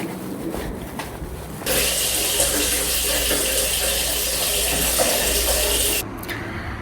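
A tap runs at a home sink for washing the face: a sudden, loud, steady gush of water that lasts about four seconds before cutting off, with quieter background noise before and after.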